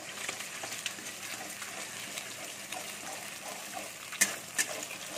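Beaten eggs with salt fry in a pan with a soft, steady sizzle and hiss, broken near the end by a couple of sharp little pops; no one speaks.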